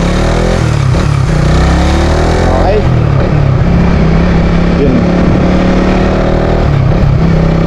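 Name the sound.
motorcycle engine running while using the clutch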